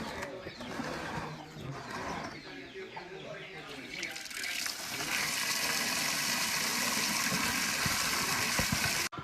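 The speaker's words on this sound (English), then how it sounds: "we filled the bucket with clean water" Clean water pours steadily into a bucket of freshly washed coffee beans at a coffee farm, a loud continuous rush that builds in the second half, with birds and some voices around it.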